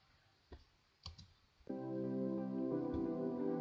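A few sharp, isolated computer mouse clicks at close range, spaced about half a second apart, followed by a steady tonal hum that continues to the end.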